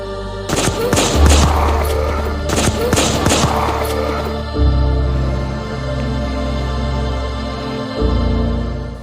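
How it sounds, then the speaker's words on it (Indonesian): Gunfire erupts in a film scene set in a prison, several sharp bursts of shots close together followed by heavy booms and a low rumbling score that continues after. "si Joko menembak Milos sehingga Milos pun tewas"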